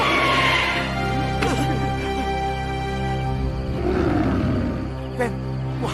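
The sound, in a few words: tiger roaring, as big as a buffalo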